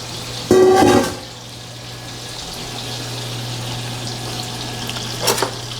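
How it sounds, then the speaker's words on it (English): A prime rib roast browning in a hot pan gives a steady, loud sizzling hiss under a low hum, opening with a burst of clattering handling and ending with a brief scrape. "all we want to do is just lightly brown both sides and a little bit off the top if we can"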